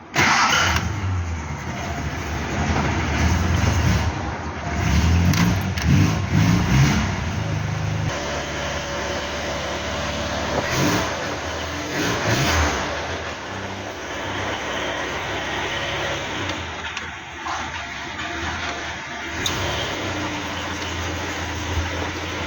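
Hillman Super Minx car engine cranking and catching, then running steadily at idle with a mid-pitched, uneven hum, close by, with no talking.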